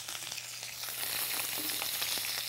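Cornish hens sizzle and fry after being laid in a pan of browning butter and olive oil, a soft steady crackle with faint pops that grows a little louder partway through, heard alone.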